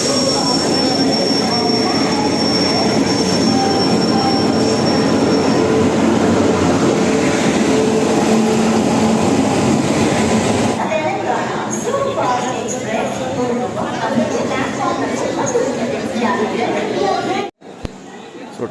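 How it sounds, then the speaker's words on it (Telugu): A train pulls into a railway station with a loud continuous rumble and rolling roar that shifts partway through before cutting off abruptly near the end. "సో ట్రైన్ వచ్చేసింది."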